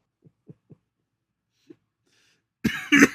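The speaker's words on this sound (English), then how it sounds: "before I had a coughing fit" A person coughs in a short fit: a few faint dry catches, a pause, then two loud harsh close coughs bunched together at the end.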